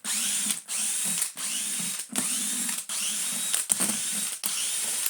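A cordless driver whirs in short repeated bursts, about seven in quick succession with brief pauses between, as Torx screws are backed out of the base plate of a 2014 Numatic James JVP-180 vacuum cleaner.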